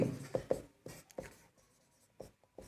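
Marker or chalk writing on a classroom board during a maths lesson, a series of sharp scratchy strokes in quick bursts, loud and close, with quieter gaps between strokes and no talk.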